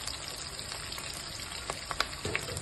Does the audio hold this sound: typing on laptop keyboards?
no